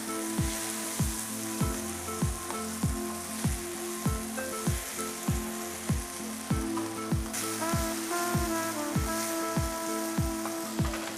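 Food caramelizing in a hot pan sizzles steadily, with a regular rhythmic ticking running under it the whole time and a brighter hiss joining partway through.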